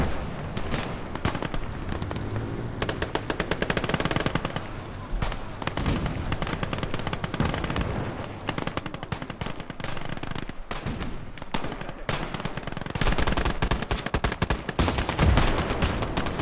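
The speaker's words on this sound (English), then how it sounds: "Why is there an artillery barrage coming in?" Video game battle audio set in an alternate 1946 war: a continuous barrage of rapid machine-gun fire and gunshots with booming artillery, loud and dense throughout with no pauses.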